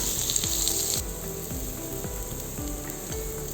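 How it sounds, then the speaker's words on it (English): Sliced onions sautéing in a pan with black peppercorns, a continuous bright sizzle with repeated scraping strokes of a spoon stirring through the pan, close and steady throughout. "Add sliced onions. Now saute it till light golden brown."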